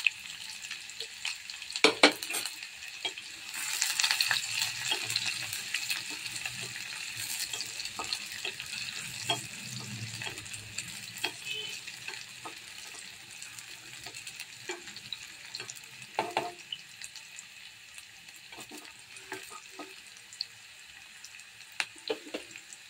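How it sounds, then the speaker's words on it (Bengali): Chopped onion sizzles steadily in a hot pan while spinach and chana dal are being cooked, with scattered clinks and scrapes of a spatula stirring it throughout and no talking. "পেঁয়াজটাকে একটু নেড়ে ছেড়ে ভেজে নেব।"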